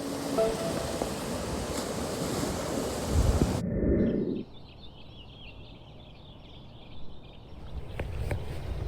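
Heavy wind-driven surf crashes against a stone quarry shoreline at a beach state park, with a loud roaring wash and buffeting wind noise on the microphone, then a quieter, more distant rumble.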